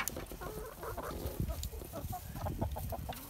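Backyard hens cluck in a farm pen shared with ducks, several birds close by making repeated, overlapping clucks and murmurs with no speech over them.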